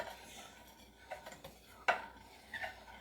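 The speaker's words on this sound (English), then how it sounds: "And I'm going to take a knife and just stir it in" A knife swirled through peach cobbler batter in a baking dish, producing faint scattered clinks and scrapes, with one sharper tap against the dish in a quiet room.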